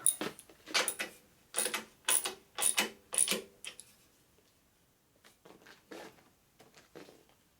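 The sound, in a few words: wrench turning a bolt on an Indian motorcycle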